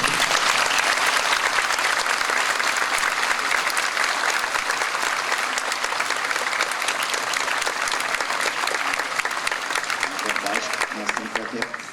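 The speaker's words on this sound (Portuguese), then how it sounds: "Peço uma salva de palmas para esses nossos amigos." A congress audience gives a long, dense round of applause for the speakers, steady and full throughout, thinning slightly near the end.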